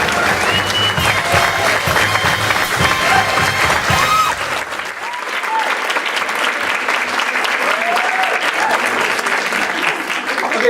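An audience at a theatre gala applauds after a Shakespeare scene, with dense clapping that thins slightly midway and continues steadily to the end.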